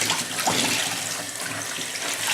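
Tap water running in a steady, close rush while tie-dyed fabric is rinsed until it runs clear, a continuous dense splashing hiss with slight shifts as the cloth is squeezed under the stream.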